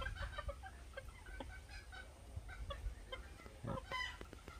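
Five-month-old Polish breed chickens cluck softly and intermittently in short bursts, with no talking.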